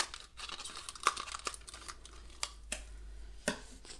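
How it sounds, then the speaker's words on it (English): Scissors cutting the top off a plastic cup for acrylic pour ribbons, a series of sharp crinkling snips and crackles spaced irregularly, close and fairly quiet. "when you want to do ribbons with one of these plastic cups, the thing what you want to do is cut off the top"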